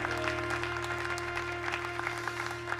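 Congregation in a church clapping in praise, scattered claps over a steady hum and sustained keyboard-like tones, fairly soft and somewhat distant.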